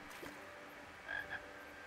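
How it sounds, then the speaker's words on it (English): Frog croaking in the video game King's Quest: two short croaks close together, fairly faint over quiet ambient game background, no talking. "So yeah, there's a frog over there."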